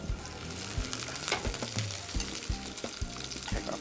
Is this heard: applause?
no